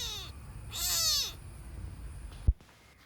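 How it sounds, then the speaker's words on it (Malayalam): A neighbour's cats meow at home: a short call opens, then a louder, drawn-out meow follows a moment later. A dull thump comes near the end against quiet background noise. "ഇതൊക്കെ അടുത്ത വീടുത്തെ പൂച്ചകളാട്ടോ"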